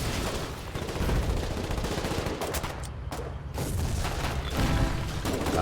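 Heavy gun fire in the Foxhole war game amid a frontline battle: dense, continuous booms and gunfire rumbling throughout, loud and crowded with overlapping shots.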